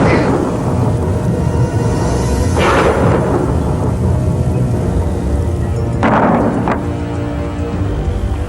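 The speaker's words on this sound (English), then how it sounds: "this is some storm we're having, huh?" Steady roar of a thunderstorm with heavy rain, broken by loud thunder cracks and rumbles around the three- and six-second marks, continuous and close throughout.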